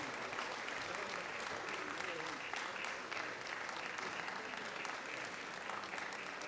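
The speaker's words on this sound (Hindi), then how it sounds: "जोरदार तालियों से स्वागत कीजिए अपने पुलिस बल का।" Sustained, even applause from a large audience at a formal official-language awards ceremony honouring a police force, steady and full for the whole stretch with no voices standing out.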